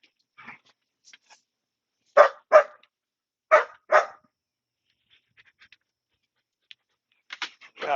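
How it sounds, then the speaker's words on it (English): Pet dogs, including Pepper, bark in short pairs of sharp close barks with quiet gaps between, followed by faint whimpers and a final burst of barking. "I got puppy dogs out the yazoo"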